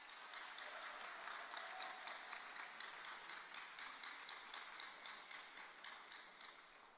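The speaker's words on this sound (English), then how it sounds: "please, just a huge round of applause for all of yourselves" A crowd applauds at the PennApps XIII hackathon opening ceremony, steady dense clapping heard from a distance and fading slightly toward the end.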